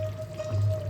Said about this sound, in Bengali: এই জায়গায় আমি এবার নারকেল দুধটা মিশিয়ে দিচ্ছি।